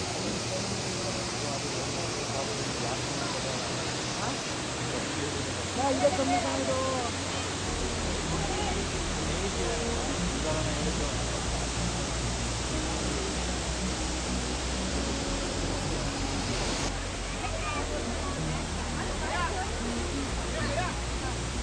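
Waterfall in Coorg running with low water flow, a steady, even hiss of falling water that fills the whole scene without pause.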